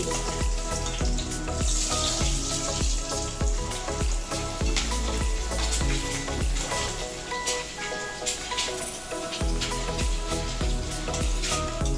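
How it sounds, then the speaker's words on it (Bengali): Pointed gourd pieces frying in hot oil in a pan, a steady loud sizzle with crackling bursts and occasional clinks as the pieces are lifted out one by one, with no talking. "পটলগুলো আমার ভাজা হয়ে গেছে, এগুলো আমি এবার একে একে তুলে নিচ্ছি।"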